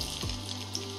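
Sliced onion dropped into hot mustard oil in a pan, a steady hissing sizzle that fills the whole second after a brief thump as it lands, close and fairly loud with no talking.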